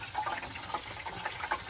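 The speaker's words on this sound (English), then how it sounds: "Oh, it's water going down in the oil pan." Water bubbles and hisses as it boils in the hot oil pan under a 1979 Ford with a blown engine, a steady close gurgling wash.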